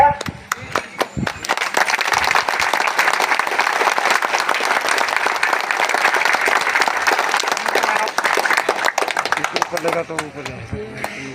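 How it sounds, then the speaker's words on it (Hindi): Applause from staff gathered at a National Safety Week 2023 event, a brisk burst of claps swelling into dense, loud clapping that holds steady for several seconds before tapering off as someone resumes talking. "तालियां होनी चाहिए।"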